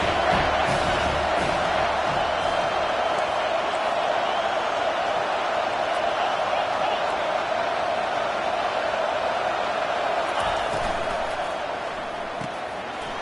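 Stadium crowd in a Madden NFL football video game roaring and cheering, a loud continuous wall of noise that fades slightly toward the end.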